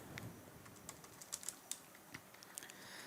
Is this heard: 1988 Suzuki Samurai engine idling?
no